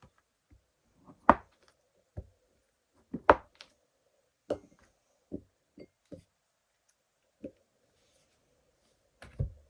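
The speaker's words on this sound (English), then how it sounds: "So I'm just going to cut these into cubes." Sharp, irregular knocks and thuds of a knife chopping a block of soap into cubes on a cutting board, with quiet pauses between the cuts.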